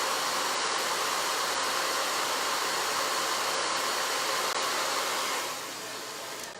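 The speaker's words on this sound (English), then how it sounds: "So let's blow dry in between." A hair blow dryer runs loud and steady at close range while drying eyelashes, its airy roar dropping in level near the end and continuing alone without any talk.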